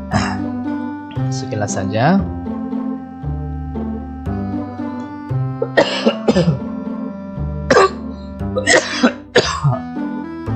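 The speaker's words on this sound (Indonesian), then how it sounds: "maaf ya, batuk" Several coughs and throat-clearing bursts come in clusters across the stretch, close and fairly loud, with a steady tonal background beneath.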